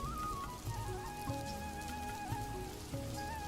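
Heavy rain in a cartoon makes a steady, dense hiss of falling water, with a tonal musical layer and soft thumps beneath it, and nobody speaking.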